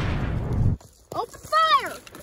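Artillery fire in a WWII short film set in the Ardennes: a loud, close rumbling blast that cuts off abruptly, followed by a shouted voice after a brief gap.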